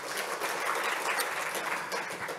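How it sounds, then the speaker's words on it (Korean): An audience applauds after a presentation at a Korean briefing on international greenhouse gas reduction projects, with a steady, dense patter of clapping that stays even and fairly close for the whole stretch. "김호기 기자님께 다시 한번 박수 부탁드리겠습니다"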